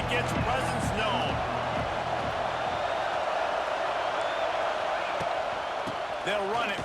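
A stadium crowd roars in a college football video game, Texas vs Georgia, a broad steady rumble of cheering that carries throughout under a commentator's talk.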